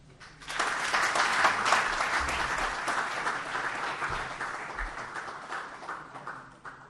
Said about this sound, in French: Sous vos applaudissements.